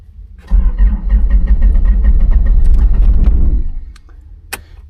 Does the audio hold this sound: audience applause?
no